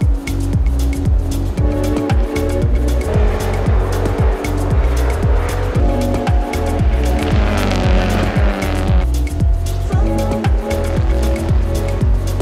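Renault RS 01 race cars accelerate from a rolling start on the Dijon circuit, loud engines roaring close by with rapid rhythmic gear-change pulses and tyre noise continuing throughout.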